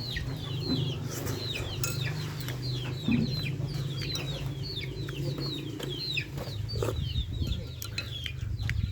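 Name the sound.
chicken clucking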